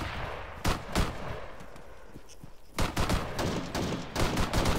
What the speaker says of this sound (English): let's give them some cover fire from here.